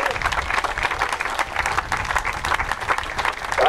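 Audience applause at a peace-movement opening rally in Stuttgart, launching a bicycle tour for nuclear disarmament: steady, dense clapping from a sizable crowd, loud and continuous throughout with no speech over it.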